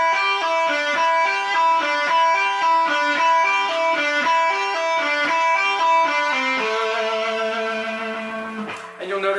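A guitar plays a pentatonic lick slowly, with a trill and a pull-off, as a string of clear, evenly spaced picked notes that step through the melody, rings out on the last note, then stops.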